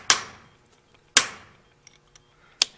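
Three sharp metallic strikes of a hammer on a cold chisel against stone ring out at uneven intervals, each with a brief ringing decay, with a couple of faint taps between them.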